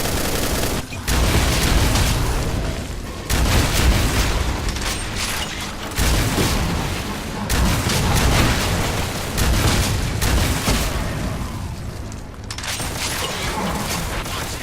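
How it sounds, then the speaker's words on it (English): Rapid, dense weapon fire and mechanical clatter from a plasma gun in Doom with the Project Brutality mod, continuous bursts with brief pauses, loud and close throughout the stretch. "Nice to have an ordinary plasma gun at long last."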